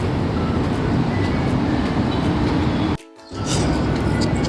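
A loud, steady rumble of an MRT train at a Manila station on Shaw Boulevard, with a brief sharp drop to near silence partway through before the din returns.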